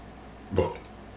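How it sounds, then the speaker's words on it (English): A single short, close burp from a man drinking beer, a brief throaty belch standing alone against quiet background. "As I burp."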